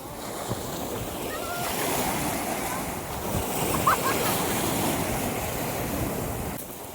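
Ocean waves break and wash on a beach at Isla Verde. The surf rumbles steadily under wind noise, with one small splash partway through and no foreground talking.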